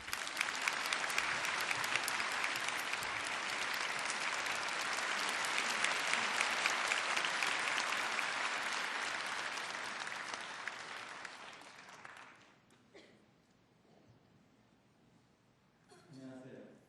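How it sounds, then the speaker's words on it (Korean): Warm audience applause greets a tenor at a church revival meeting, a dense, sustained wash of clapping for about twelve seconds that fades out, followed by a quiet hall and brief sounds. "우리 뜨겁게 박수로 맞아주시면 감사하겠습니다."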